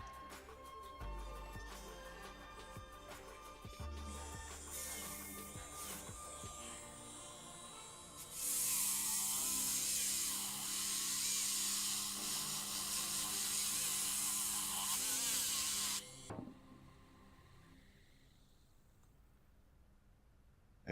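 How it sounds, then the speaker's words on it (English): A rotary polisher with diamond polishing paste works on dental porcelain, starting as a low whirring hum with scraping, then a loud, steady, bright high-pitched buzz for about eight seconds that cuts off abruptly, close and without talking. "we are going to polish it with diamond polishing paste."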